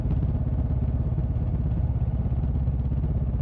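A motorcycle engine runs steadily on a highway at night, a dense continuous low rumble with a faint clattering texture, close and unbroken throughout.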